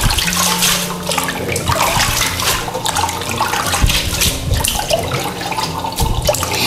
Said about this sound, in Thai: แล้วก็ล้างแบบนี้นี่ค่ะเราก็จะล้างจนหมดแป้งนะ